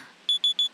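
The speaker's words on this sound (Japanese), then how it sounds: "わ、アラーム？ 一体何の？" An alarm sounds in quick, evenly spaced high electronic beeps, four in under a second, loud and clear. A faint low hum comes just before the beeps, with no talking.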